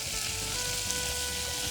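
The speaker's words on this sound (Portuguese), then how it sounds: "Vou abrir um buraquinho aqui no meio, ó. Na panela. Vou colocar a minha manteiguinha" Butter melting and sizzling in a pan among onions being caramelized for a pork loin puff pastry pie, a steady, even frying hiss held throughout at moderate level with no talking.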